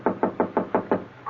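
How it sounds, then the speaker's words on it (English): Six firm, evenly spaced knocks rap on a door in a quick, steady rhythm, close and distinct in a quiet room, in an old radio drama. "the sound I heard was a knock on my door"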